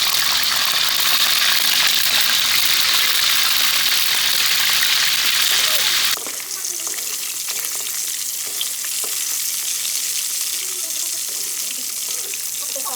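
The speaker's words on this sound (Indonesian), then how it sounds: "langsung kita goreng" Fish frying in hot oil in a wok, a steady loud sizzle filling the first half, then a quieter crackle after the stir, with no talk.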